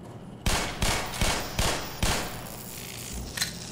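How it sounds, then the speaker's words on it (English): Rapid run of five or six sharp gunshots in Black Mesa, fired from a rooftop at automated turrets, each a punchy crack with brief decay, then fainter trailing shots. "from here, on the top, we can now snipe off the turrets"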